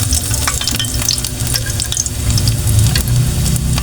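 Garlic sautéing in a pan as the base for sardines with misua noodles, with a loud, steady sizzle and crackle close by and bursts of stirring and clatter, no talking.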